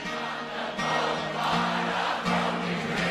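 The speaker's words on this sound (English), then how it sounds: "Crowd interaction, good." Live concert crowd at a show, singing along and cheering as a loud, continuous wash of voices with sustained sung tones rising and falling, no single voice standing out.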